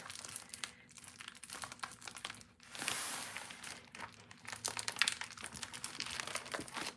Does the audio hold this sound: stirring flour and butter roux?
no